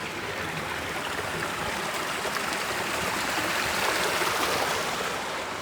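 A clear mountain stream rushes steadily over rocks, a broad, continuous close-up gush without pauses or voices.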